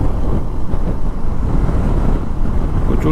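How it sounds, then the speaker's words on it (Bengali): Strong wind roaring and buffeting across the microphone while riding a motorbike at high altitude on the road to Chitkul, a loud, continuous low rumble with no break for the whole stretch. "হাওয়া দিচ্ছে প্রচণ্ড জোরে"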